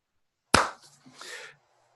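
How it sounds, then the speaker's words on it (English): A single sharp hand clap rings out close and loud, followed by a brief soft trailing sound, with silence before and after. "So I'm going to clap now."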